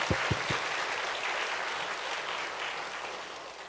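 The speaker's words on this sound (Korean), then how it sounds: "다시 한번 박수로 격려해 주세요" Church congregation applauds its Sunday school teachers during a service, a broad continuous clapping from many people, moderately loud, opening with a few low thumps before settling into an even roar.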